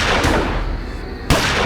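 Two sharp pistol gunshots on a street at close range, abrupt broadband cracks spaced about a second apart over a dense, rumbling background.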